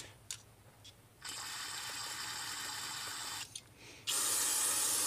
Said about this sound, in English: let's shoot some carb cleaner into the intake where the fuel comes in.